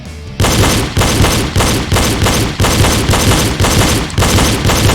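Pistol fire in a double tap shooting drill, a loud rapid string of shots in close pairs, repeating steadily with almost no gap, heard up close.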